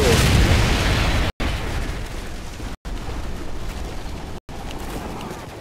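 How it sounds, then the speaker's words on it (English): A predator missile detonating in a competitive multiplayer shooter: a loud, sustained explosive roar and rumble that fills several seconds, broken by a few abrupt silent dropouts. "Friendly predator missile."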